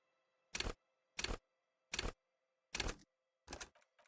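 Five sharp interface clicks from the video game Disco Elysium, spaced roughly evenly apart, crisp and mechanical, against near silence.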